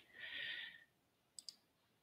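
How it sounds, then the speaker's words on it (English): A computer mouse gives a quick double click, faint and close, after a soft breathy exhale. "So if I click here"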